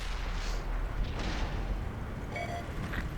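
Tank cannon shot from an M46 Patton in a tank video game: a deep booming blast up close, its low rumble rolling on for a few seconds with faint mechanical clatter, no talking.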